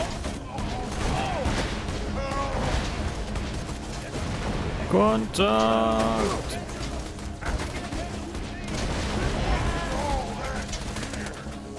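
Gunfire rattles with explosions in a dense, continuous battle din in the video game Borderlands 2, while a voice calls out over the noise.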